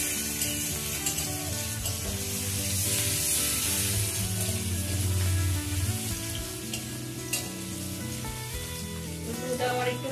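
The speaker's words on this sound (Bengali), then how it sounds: "রসুনটা একটু ভাজা ভাজা করে নেব" Garlic paste fries in hot oil for Bengali fish kalia made with katla or rui, giving a steady, close sizzle that hisses continuously throughout with faint stirring and no talking.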